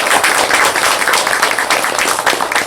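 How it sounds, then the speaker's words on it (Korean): An audience at a Buddha's Birthday dharma talk applauds together: a loud, dense, continuous wash of many hands clapping, steady for the whole stretch with no talk above it. "없는 것 속에서 사는 여러분들을 위해서 스스로 박수 한번 치세요."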